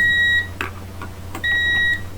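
Two steady electronic beeps from a buzzer on a temperature-controlled fan project sound, one at the start and one near the end, with soft clicks and rustling between them.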